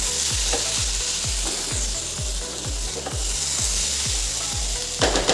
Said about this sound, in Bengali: আর এই দেখো আলু ভাজা একটু হবে